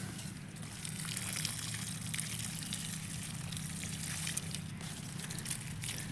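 Water runs from a garden hose pipe onto plants, a soft, continuous trickling flow heard from close by with no talk.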